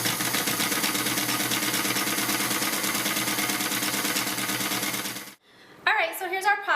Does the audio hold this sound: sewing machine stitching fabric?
yes